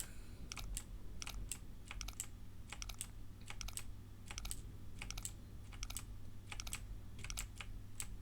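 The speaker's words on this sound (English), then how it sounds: "how do you use a keyboard quietly?" Fast computer keyboard typing in quick bursts of crisp key clicks with brief pauses between them, close and fairly quiet, with no talking over it.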